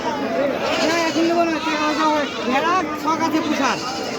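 Goats and sheep bleat at the Taherpur goat market, several overlapping wavering calls close by, mixed into a busy hubbub of people chatting and talking throughout.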